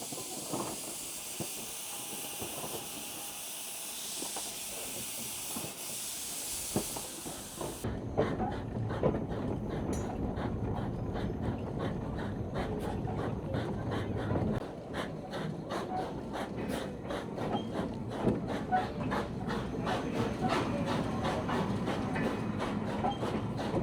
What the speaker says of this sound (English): The rides at Locomotion are pulled by a replica of the iconic 1829 steam locomotive Rocket, built by Robert Stephenson.